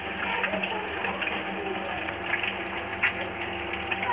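Water pouring and gushing steadily into a simmering dhoka curry, a continuous close splashing rush throughout.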